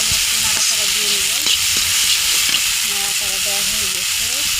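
A hot karahi (wok) on a stove being stirred, with steady dense frying sizzle and hiss throughout while sea fish jhuri bhaja is being cooked; faint tonal murmurs sit under the sizzle.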